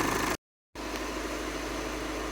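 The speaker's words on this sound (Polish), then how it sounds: "Wszystko mamy pospinane, auto pracuje już normalnie na dieslu" A diesel car engine idles steadily after its fuel system was cleaned, giving a continuous even rumble and hiss at close range, broken by a brief dead-silent gap before the same idle resumes.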